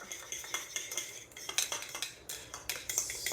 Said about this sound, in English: And then just mix this all up.